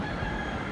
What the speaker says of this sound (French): toujours avec le chant du coq.